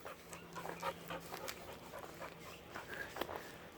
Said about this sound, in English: Or no, that's not the German Shepherd. That's another dog.